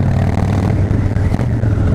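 A 1600 cc Harley-Davidson Dyna Street Bob engine revs loudly up close, a deep, throaty rumble with rough, pulsing clatter throughout.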